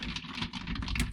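Typing on a computer keyboard: a quick run of soft, close key clicks packed into about a second, steady and moderately quiet.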